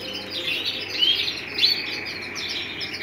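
A small bird chirps while being fed, in rapid high-pitched tweets that repeat close by over a faint steady background hum.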